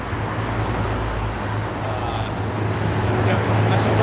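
Camera cars rolling past on a road produce a steady, loud roadway rumble with low engine drone throughout, swelling slightly toward the end, while people talk over it.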